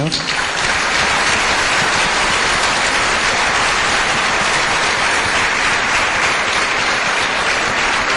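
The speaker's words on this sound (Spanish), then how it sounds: "darle un aplauso de gloria al Señor" A church congregation gives loud, sustained applause of glory to the Lord after a bilingual Korean-Spanish prayer, a dense continuous roar of many hands clapping up close, with some voices faintly underneath.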